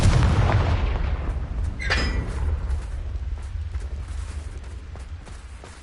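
Spell explosions in the Hogwarts Legacy video game, a loud low boom opening the scene, then a sharp crackling burst near the two-second mark, trailing into a rumbling decay.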